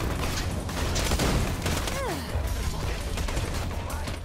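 Rapid video game gunfire in Borderlands 2 crackles and booms in a dense, busy burst, with shotgun blasts and explosive hits layered over constant action sounds.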